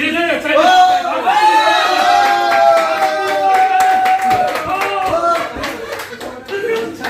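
Audience applause in a network marketing presentation hall, dense continuous clapping over several seconds with a voice speaking loudly on top and occasional shouts from the crowd.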